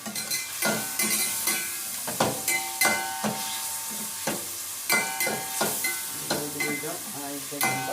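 Mughlai biryani masala stirred in a sizzling pan, with a rhythmic series of sharp scraping and clanking strokes of a spoon against metal over a continuous frying hiss, close up.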